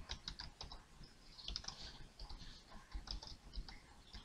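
Typing on a computer keyboard while editing Mach3 macro settings for a torch height controller, heard as quiet, fairly steady clicking keystrokes in short irregular bursts with no talk.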